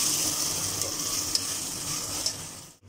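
Chicken pulao ingredients sautéing in a pot give a steady, close sizzle with faint stirring scrapes and a couple of sharp clinks, continuous throughout and ending abruptly.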